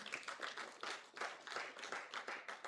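An audience at a regional debate competition quarter-final claps in faint, distant bursts that rise and fall in uneven waves.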